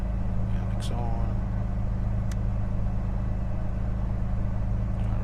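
A Cirrus SR22T aircraft engine runs up toward 1,000 RPM on the ground, a steady loud drone with a low throbbing hum and a few brief clicks.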